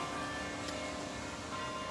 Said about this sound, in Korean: 뭐, 종소리가 울리지? 학교 학교? 학교라 그런가 여기?